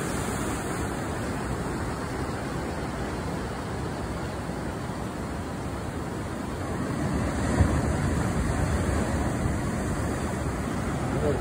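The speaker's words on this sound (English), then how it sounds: "Look how big those waves are." Big ocean waves breaking at Huntington Beach, a steady, loud wash of surf roar with wind noise on the microphone, continuous throughout with no distinct break or speech.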